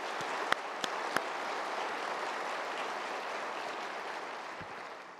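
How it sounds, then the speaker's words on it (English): A convention audience at an expo gives a round of applause, soft and distant-sounding steady clapping with a few sharp knocks near the start, tapering slightly toward the end. "Could we just give them a round of applause to thank them for everything they've done?"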